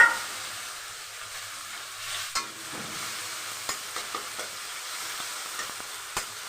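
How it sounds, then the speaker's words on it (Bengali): Ground tomato sautéing with ginger in a pan: a steady, moderate sizzle and hiss with occasional sharp taps and scrapes of a stirring utensil against the pan. "টমেটো একটু কষিয়ে তারপরে আমি দইটা দিয়ে দেবো।"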